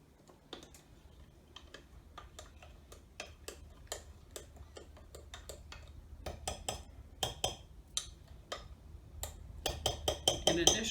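Spoon stirring baking soda into buttermilk for steamed bread, a long run of quick, close ticking clinks against the bowl that grows louder toward the end, with faint room noise beneath.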